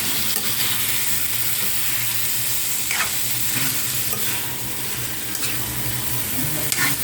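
Chicken pieces sautéing with tomatoes in a pan for Filipino afritada, a steady close sizzle broken by occasional stirring scrapes and clinks, with no talking.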